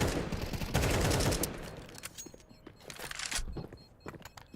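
Gunfire in a Counter-Strike match at a PGL Cluj-Napoca tournament, with dense rapid shots at first and then scattered bursts and single cracks that fade in and out, and no talking over it.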